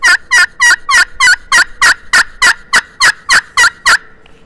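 An aluminum turkey pot call imitates a turkey with a rapid series of about fourteen sharp, raspy yelps in steady rhythm, loud and close, ending abruptly with no talk.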